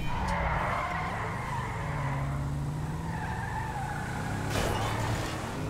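A jeep in GTA 5 drives and accelerates with a steady engine drone and tire noise, the revs climbing and shifting, loud and close throughout, with a sharp skid or impact near the end.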